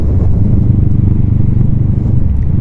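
A 2020 Honda Rebel 500 motorcycle engine thrums steadily while riding, a low, close, continuous pulsing rumble mixed with some wind buffeting, no talking.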